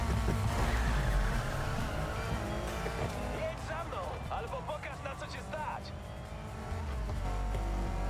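Race cars in the Need for Speed Heat video game roar off the line together, engines revving loud and close with a brief tire squeal, while someone talks over them throughout.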